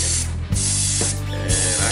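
An airbrush sprays paint in a loud, close, steady hiss that pulses in short bursts, with a low compressor hum running underneath.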